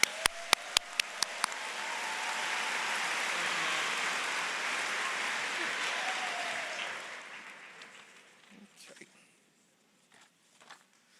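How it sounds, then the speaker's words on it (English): Crowd applause for graduates at a university commencement ceremony, a broad sustained clapping wash in a large hall that swells, holds for several seconds, then tapers off into scattered claps and quiet room noise. "one last round of applause for these graduates"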